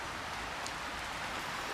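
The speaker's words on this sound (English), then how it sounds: "It hasn't stopped raining forever." Steady rain falls continuously in Hidden Valley, Devon, England, making an even, unbroken hiss with no gaps or distinct drops and no voices.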